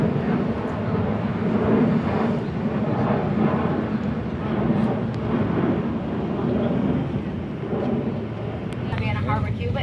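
Airplane passing overhead near Ronald Reagan Airport, a steady low broadband roar that holds throughout without a clear rise or fade, heard outdoors at a cemetery with people talking underneath.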